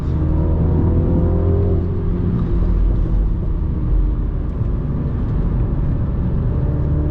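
A Mini John Cooper Works drives along a road with a steady, loud engine rumble and tyre roar heard from inside the cabin, and the pitch eases slightly partway through.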